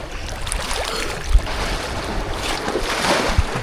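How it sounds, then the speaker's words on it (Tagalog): Strong sea waves wash and slap around a small boat off a little island, a steady broad rush of water and wind with a couple of brief thuds against the hull. "Grabe ang alon guys."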